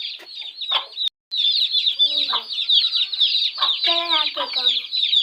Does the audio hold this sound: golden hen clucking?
yes